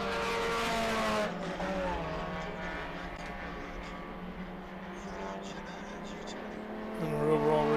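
Ginetta G20 race car at Road Atlanta during an SVRA International GT sprint race, engine droning steadily with a louder surge near the end, heard under continuous commentary.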